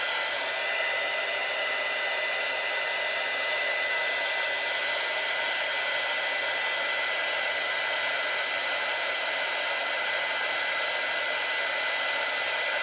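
Heat gun blowing hot air in a steady, unbroken broadband rush at close range, holding a constant level throughout with no voices.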